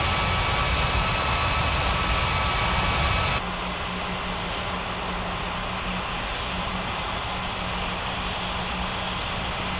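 A plane at an airport near runway 18 gives a loud, steady jet-engine roar. It shifts abruptly in tone partway through and then keeps rumbling on with a low hum.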